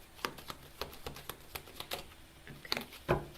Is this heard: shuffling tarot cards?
yes